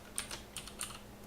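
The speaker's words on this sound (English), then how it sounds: "Why am I typing it?" A few quick keystrokes clatter on a computer keyboard, three small clusters of light clicks heard close and alone in a quiet room.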